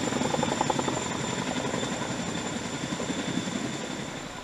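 A CH-47 helicopter hovering about ten feet above the sea at under ten knots, its rotor thudding in a fast steady beat under a continuous engine roar, close and sustained.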